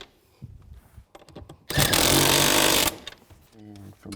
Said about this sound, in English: And I'll tighten these down. I'll just start from the center, work my way out.